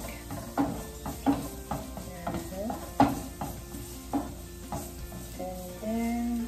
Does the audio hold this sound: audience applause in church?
no